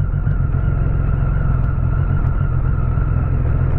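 A motorcycle is ridden at a steady pace on a road through Atlantic Forest, and the rider suspects it is not running well. The engine gives a constant close low rumble with a wind-like hiss over it, and no one speaks.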